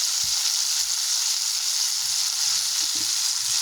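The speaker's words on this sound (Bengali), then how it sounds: "বাটা মশলাটা আমি দিয়ে দিলাম" A ground paste of mustard, poppy seed, green chilli and coriander leaves fries in a pan with a dense, steady sizzle, close and constant, with a couple of faint low knocks.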